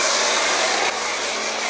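Foam gun spraying thick car wash foam onto a blue car, a steady close-up hiss of pressurized spray that continues throughout, without any talking.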